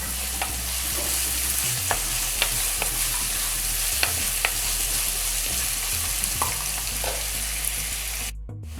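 Chopped onions sautéing in a pan for a village-style chicken roast, a steady close sizzle with repeated stirring clicks and scrapes throughout, no voices.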